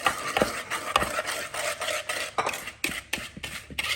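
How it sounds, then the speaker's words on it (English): A whisk beats a thick sugar mixture for pecan tassies in a bowl, giving close, rhythmic scraping and clinking strokes with brief pauses between bursts, and no one talking. "Now, you do want to whisk that pretty well because you want to get that sugar dissolved"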